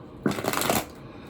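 A deck of tarot cards is shuffled for a reading, one brief riffling burst up close, with no voices.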